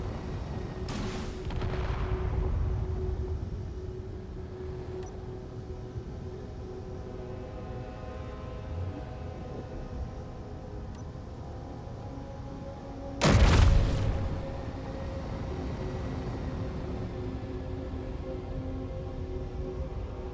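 In Space Engineers, a turret fires at a beacon, giving two heavy booming shots, one early and a louder one later, over a steady low mechanical hum.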